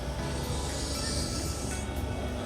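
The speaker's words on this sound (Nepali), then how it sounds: "अब मेट्रो चाहिँ स्टार्टिङ भइसक्यो" Metro train near Barcelona starting to move, heard from inside the car as a steady loud rumbling hiss with faint wheel noise, no talk.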